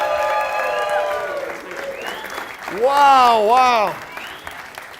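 An audience at a Christian business network event claps, and cheers rise over the applause, loud and close. A person speaks briefly over the start.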